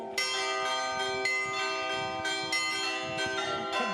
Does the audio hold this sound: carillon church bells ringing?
yes